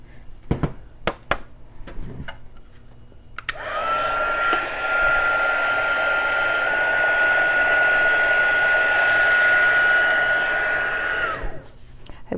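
An embossing heat tool melting powder on a handmade card, a steady blowing whir with a high whine that runs for about eight seconds after a few soft handling taps, then cuts off.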